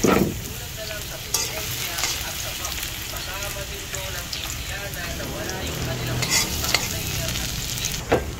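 Garlic sizzles and fries in hot cooking oil, a steady crackling hiss with occasional stirring scrapes, close and fairly loud throughout, with no clear talk over it.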